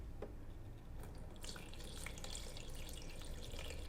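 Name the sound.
filtered water poured into coffee brewer reservoir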